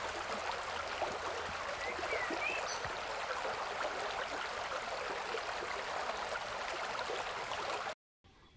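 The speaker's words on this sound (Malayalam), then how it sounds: "വെള്ളത്തിനൊക്കെ ഭയങ്കര സൗണ്ടായിരുന്നു." Stream water flowing at night at a village resort in Lakkidi, Wayanad, a steady broad rushing wash that holds constant before cutting off abruptly near the end.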